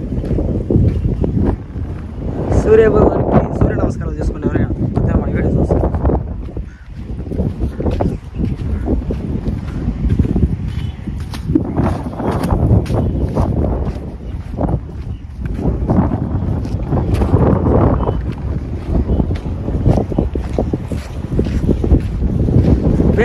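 Strong wind at a riverside in Vijayawada buffets the microphone in loud, continuous low roaring gusts, with someone speaking briefly over it.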